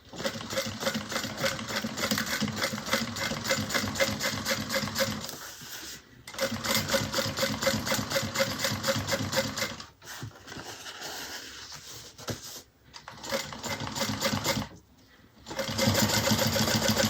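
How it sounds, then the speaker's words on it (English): A sewing machine topstitches the side panel of a Brunella bag, running in steady, rapid bursts broken by several short pauses, close and loud with no talk. "now we're going to top stitch onto the side panel"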